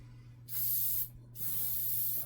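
Spray cleaner hissing onto a Glock pistol frame in two long, close bursts separated by a short pause, with no talking.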